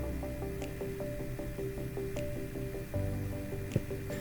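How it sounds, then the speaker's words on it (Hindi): Boiled puree made from three medium tomatoes is poured onto crunchy fried vegetables in a pan, giving wet squishing and dripping sounds. A steady tonal hum with a regular repeating tick runs beneath it at moderate loudness. "अब इसमें मैं 3 टमाटर मीडियम साइज का प्यूरी ऐड कर रही हूँ।"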